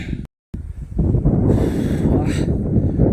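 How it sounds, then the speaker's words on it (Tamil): Strong wind buffets the microphone at a hilltop viewpoint in Yelagiri, a steady loud roar close up that cuts out briefly near the start and then continues unbroken. "காற்று பங்கமாக அடிக்குது காய்ஸ்"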